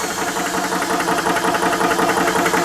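A Ballistic PCP 12V air compressor runs with a loud, steady, rapid pulsing hum and a rattling, engine-like rhythm, continuous and close with no pauses.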